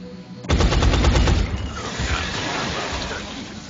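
Gunfire from a soldier's shot in XCOM: Enemy Unknown, a loud burst of rapid automatic fire for about a second, then trailing rumble and lighter combat noise.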